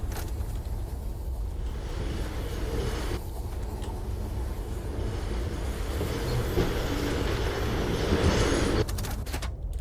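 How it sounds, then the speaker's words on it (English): A train rolls along a track in the video game Firmament, a steady low rumbling hum of wheels and carriage that grows slightly louder near the end with some clattering; nobody speaks. "let's just run the train down the track"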